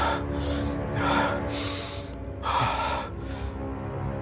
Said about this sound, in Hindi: अर्जुन अपना सिर गड्ढे में से बाहर निकाल लेता है और हांफने लग जाता है